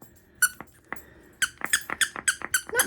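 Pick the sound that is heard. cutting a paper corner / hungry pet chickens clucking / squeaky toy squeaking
squeaky toy squeaking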